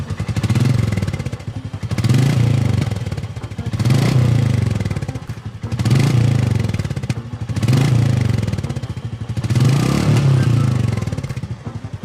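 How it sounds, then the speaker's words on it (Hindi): A Royal Enfield Meteor 350 motorcycle (2020 BS6) gives a loud, close, deep thumping exhaust note, revved in repeated swells roughly every two seconds, rising and falling with no talk. "सो एग्जॉस्ट नोट मैं आपको और क्लियरली सुनाता हूँ।"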